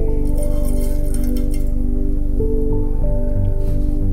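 Mustard seeds and asafoetida spluttering in hot oil in a pan, an early step for tomato rice made from leftover rice: dense, continuous crackling and popping, close and loud, with no talk.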